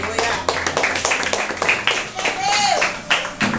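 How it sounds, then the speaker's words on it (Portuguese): Church congregation claps in praise during a communion service, a steady rhythmic patter of many hands with voices speaking and singing over it throughout. "batendo a salva de palmas para o Senhor"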